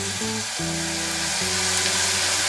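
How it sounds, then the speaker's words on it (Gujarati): Chopped cluster beans sizzle in hot oil with carom seeds in a pan, a dense continuous frying hiss with a few stirring bumps, loud and close and without voices. "જે ગવાર આપણે સમારી હતી તેને આપણે તેલ અને અજમાની અંદર મિક્સ કરી લેવાની છે"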